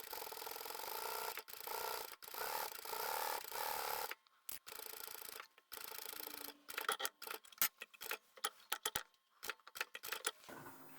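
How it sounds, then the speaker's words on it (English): A sewing machine stitching fabric, running in a steady mechanical whir with a rapid rhythmic clatter, then stopping and restarting in short bursts separated by silences. "We're going to sew close to the inside edge."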